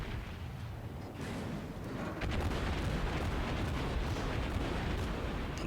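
A shell strikes a battleship's citadel in World of Warships, producing a dense, rumbling explosion that swells and holds as a loud, sustained roar of blast and debris with no voices.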